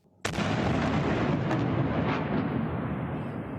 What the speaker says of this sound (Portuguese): Moradores gravaram com o celular o tiroteio, a movimentação e as explosões.